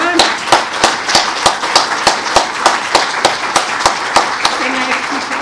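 Audience applause at a greeting event of an Alzheimer's society in Heraklion, rhythmic clapping with regular sharp beats, loud and close, continuing evenly throughout.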